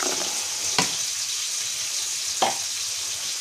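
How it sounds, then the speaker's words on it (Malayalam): Ash gourd moru curry with coconut paste simmers in a pan with a steady soft sizzle, and a spoon scrapes through it twice in brief strokes. "ഒന്ന് ഇളക്കി കൊടുക്കാം കേട്ടോ."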